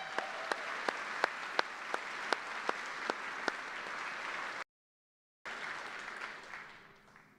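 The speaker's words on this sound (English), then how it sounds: "Let's give them a round of applause." An audience applauds an Army band at a Department of the Army retirement ceremony. The clapping is dense and sustained, with a brief dropout partway through, and some sharp regular clicks run over the first part before the applause tapers off.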